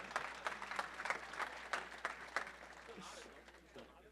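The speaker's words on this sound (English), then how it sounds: "Give her a round of applause." A modest group claps at a small mastermind session, with separate claps standing out distinctly and softening toward the end, fairly quiet.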